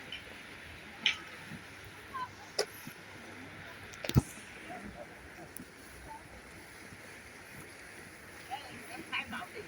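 Choppy sea waves washing against a shore, a continuous rough rushing wash with wind buffeting the microphone and a few faint scattered knocks and voices in the background.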